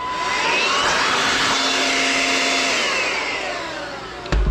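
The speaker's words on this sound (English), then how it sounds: "This leaf blower thing by Armor All." An Armor All leaf blower runs loud and steady at close range with a high whining roar, then cuts off with a clunk at the end.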